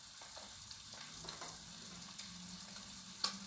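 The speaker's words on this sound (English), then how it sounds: "we can cook onions in this little pot. So let's cook some onions." Onions cooking in butter in a small pot over medium heat give off a faint, steady low sizzle with occasional soft stirring taps.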